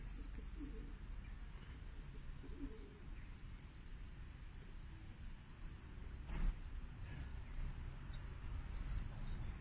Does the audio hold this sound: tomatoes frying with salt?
no